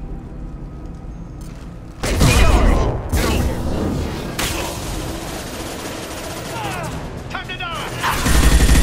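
A Mass Effect 2 street battle between Blue Suns and Vultures mercenaries, with sudden loud bursts of gunfire and booming impacts coming in waves, with game dialogue spoken over the fighting.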